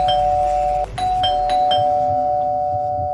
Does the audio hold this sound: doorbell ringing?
yes